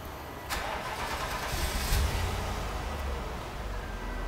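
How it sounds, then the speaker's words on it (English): A car engine cranks and catches during installation of a STAG gas (LPG) system in a workshop, then settles into a steady nearby idle with a slight rise in revs. "Okay, Tomasz, start the engine."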